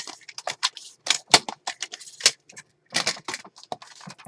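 Craft material being cut off with a series of crisp, close snipping clicks in an uneven rhythm, some quick pairs and some short pauses, alone without talk.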